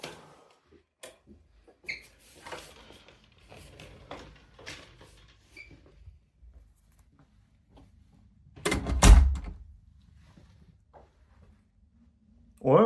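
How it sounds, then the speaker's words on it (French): A heavy hotel room door in Japan lands a single loud, deep thud near the end, with quiet clicks and soft talking around it. "la porte est lourde"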